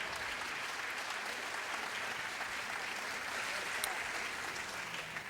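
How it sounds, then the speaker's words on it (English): An audience at a senior women's pageant talent lineup gives a long, steady round of applause, a broad, dense clapping that stays level and unbroken from start to finish. "One more big round of applause for all our contestants here in the talent lineup"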